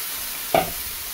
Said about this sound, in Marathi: हे बघा, हे दुधी टाकून घेऊया